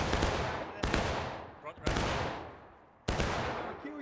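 Four heavy rifle volleys crash out in War of Rights at a river crossing, each a sharp loud burst that decays into a long rolling echo, with a faint voice between them.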